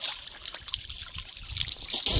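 Spring water that keeps flowing through summer trickles and dribbles steadily nearby, with splashing that swells louder toward the end, and no voices.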